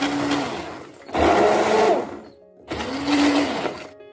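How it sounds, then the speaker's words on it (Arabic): A blender grinding garlic cloves with tomatoes for a sauce in two loud bursts, the motor whining up then stopping, with a short pause between runs and no talking. "عندي 2 سنينات نقصهم ونحطهم ونرحيهم مع الطماطم"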